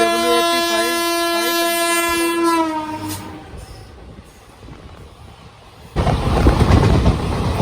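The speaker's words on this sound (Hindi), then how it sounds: "ये जी कामली में रोका गया दौलतपुर चौक एक्सप्रेस को और निकाला जा रहा है जम्मू तवी" The Jammu Tawi Ahmedabad Express passes on an Indian railway line, first a loud sustained horn, then rumbling wheels clattering by, with a louder rush of noise as the cars sweep past close by.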